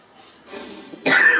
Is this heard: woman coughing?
yes